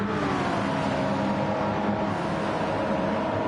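Race cars lap the Daytona road course in a sim racing game, a Jaguar tucked into another car's slipstream; a steady, loud engine drone holds throughout, with no voices.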